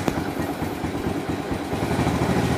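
A motorcycle engine idles just after being started cold for the first time that morning, with a steady, moderately loud putter and slight pulsing throughout.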